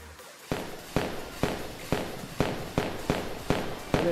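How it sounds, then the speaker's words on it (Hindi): Firecrackers going off in a Roblox video game: a rapid, evenly spaced string of about nine sharp pops, each with a short decay, heard loud and close. "यार ये तो पटाखे"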